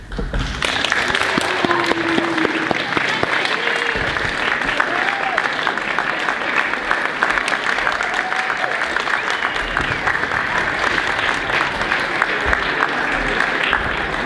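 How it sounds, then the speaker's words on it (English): An audience in a school chapel claps hands together, sustained even applause lasting the whole stretch at moderate loudness, with faint voices mixed underneath. "So you can give yourself a hand clap."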